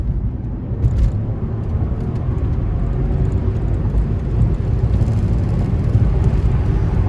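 A 2004 Mercedes-Benz S600 accelerating hard on an on-ramp, heard from inside as a steady, loud low-pitched engine and road roar that holds strong throughout, with no talking.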